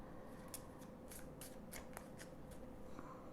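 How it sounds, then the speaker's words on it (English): Tarot cards shuffled by hand in a quick run of about nine crisp riffling bursts, each a short papery flutter, close and steady, with no talking. "I'm just going to shuffle real quick just to see what's at the bottom"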